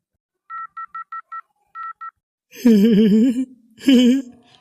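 A quick run of seven electronic telephone dial tones beeps in two groups as a number is dialed, followed by two loud vocal outbursts like groaning laughter.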